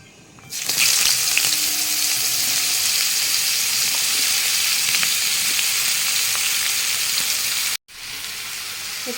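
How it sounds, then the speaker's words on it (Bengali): Sliced snake gourd with three chilies hits hot oil, bursting into a loud, continuous sizzle that holds steady throughout, with a brief dropout near the end. "চিচিঙ্গা এগুলো ভাজার জন্য কেটে দিয়েছি ধুয়ে সব কিছু রেডি করে দিয়েছে নিয়ে এখন আমি এটাকে ছেড়ে দেবো"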